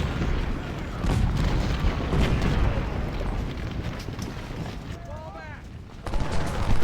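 Musket and rifle fire crackles through a Civil War battle in Ultimate General: Civil War at Thoroughfare Gap, a dense, continuous rumble of volleys and scattered shots with booming bursts, while a voice talks over the din.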